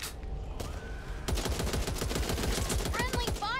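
Rapid video game gunfire from the zombie shooter Back 4 Blood, a dense, loud burst of automatic shots lasting a couple of seconds, preceded by quieter game ambience.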